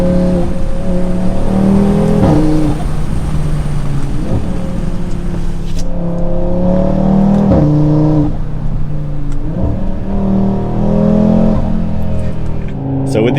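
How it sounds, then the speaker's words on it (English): An Audi RS3 fitted with a full aftermarket exhaust revs hard and close, its engine note rising and falling in repeated bursts with turbo whoosh and let-off sounds between them. "You get the turbo noise, the little let-off sound and everything."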